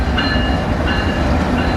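A CN intermodal freight train rolls westbound through Battle Creek, Michigan, its cars passing close and loud with a continuous rumble and rhythmic clacking wheels on the rails.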